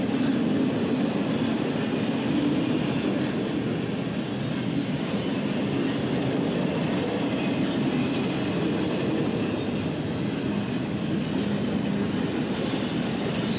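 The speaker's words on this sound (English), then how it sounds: "This was the first NS train meet where the westbound was moving while the eastbound was not moving." A Norfolk Southern freight train rolls past on a cold, sunny morning, producing a loud, steady rumble with a faint clickety-clack of wheels that continues throughout, with no talking.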